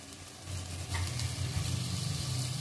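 Spinach tipped into a hot pan on a low gas flame, a steady close sizzle with a light rustle as the leaves go in, rising slightly and holding even.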